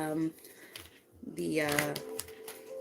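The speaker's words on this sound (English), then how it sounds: "I'm shuffling these cards" Tarot cards, a fairy message deck, riffle and flutter in quick bursts under a voice, close and soft.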